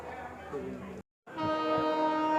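A train departing a station between Ahmedabad and Rajkot, India, rumbles with a droning horn-like tone, cut by a brief silent gap, then resumes louder with steady rolling engine noise.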